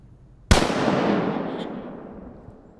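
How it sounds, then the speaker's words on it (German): A single sharp rifle shot at a wild boar cracks out during a driven hunt in daylight, followed by a long rolling echo that fades over a couple of seconds, with no voices. "Genau dieser Augenblick reichte aus, um ihn zu beschießen."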